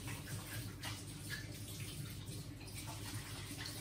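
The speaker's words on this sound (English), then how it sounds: "So then I'm going to quickly wash my hands," Water runs steadily from a kitchen tap while someone washes their hands during Christmas stollen baking, a quiet continuous rush with faint splashing and no voices.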